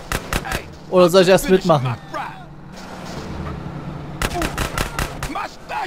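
Rapid bursts of gunfire in the video game GTA San Andreas crackle in two clusters around someone speaking German, with engine rumble underneath.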